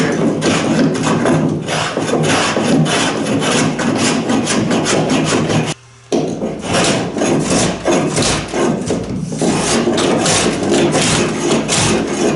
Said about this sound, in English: now I can just do a bit of cleanup with my block plane